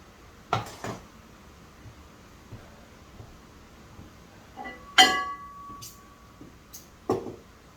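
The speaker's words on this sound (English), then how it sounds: "Bring out my prepared jars." Prepared glass canning jars handled in a home kitchen while making pickles on a farm: a few scattered clinks and knocks, with a louder ringing glass clink midway and another near the end, otherwise quiet.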